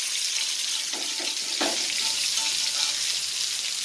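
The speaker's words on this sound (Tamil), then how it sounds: "தேங்காய் எண்ணெயில் வந்து இந்த மாதிரி மீன் பொரிக்கும் போது ரோஸ்ட் பண்ணும்போது கொஞ்சம் வந்து பாத்திரத்தில் ஒட்டுற மாதிரி இருக்கும்" Fish frying in coconut oil in a pan gives a steady, dense sizzle and crackle throughout, close and fairly loud, with a few brief stirring scrapes.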